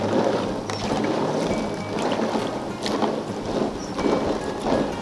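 Acorns swished around by hand in a container of rainwater, giving a continuous sloshing, splashing water sound with irregular swells, fairly close and moderately loud throughout.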